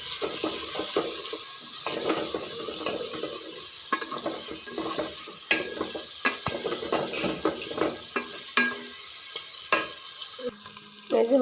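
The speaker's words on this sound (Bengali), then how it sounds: "গোশটা দিয়ে একটু কষিয়ে নিই।" Meat and spices stir-fried in a pan, with irregular scraping and stirring clatters over a soft sizzle, spoon strikes coming in uneven bursts, close by and with no voices.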